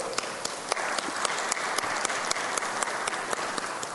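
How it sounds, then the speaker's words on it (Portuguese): Steady, even applause from an audience at a special committee session on petroleum and gas, a dense wash of clapping with a few sharp near claps standing out, and no voices over it. "eu peço para todos vocês uma salva de palmas à indústria capixaba"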